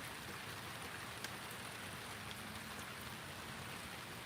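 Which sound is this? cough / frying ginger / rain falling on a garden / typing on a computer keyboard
rain falling on a garden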